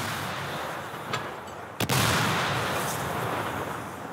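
A Ukrainian artillery unit's cannon fires at a target, one loud, sharp boom midway through after a fainter thump, with a rumbling outdoor background before and after.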